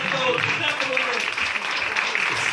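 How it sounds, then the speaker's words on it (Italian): Audience clapping at a Sardinian-language theatre performance, steady and moderately loud, with voices talking over the applause. "facciamo un applauso a Luca"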